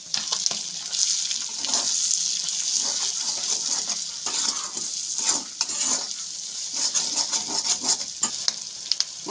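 Spices with turmeric, cumin and coriander powder frying in fish oil with onion in a pan, a steady close sizzle with stirring scrapes and occasional clinks throughout.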